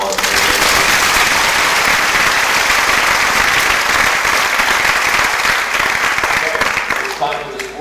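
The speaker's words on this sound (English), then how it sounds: "Let's give them a big round of applause." Sustained, loud applause from a pageant audience at a Strassenfest, dense clapping that continues steadily and then tapers off near the end.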